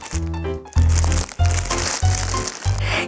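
A plush Pengsoo cushion, a GS25 30th-anniversary collab item, is pulled out of its plastic packaging bag, giving loud crinkling and rustling in repeated bursts up close, with no talking.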